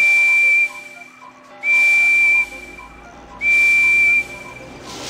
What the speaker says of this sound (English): I really like my whistle.